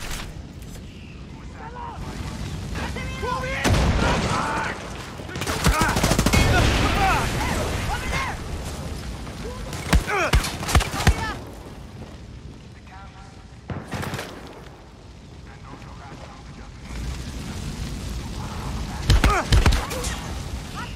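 Gunfire and booming explosions in Far Cry 6, loud bursts and crackling shots scattered through a busy battle, with someone talking over much of it.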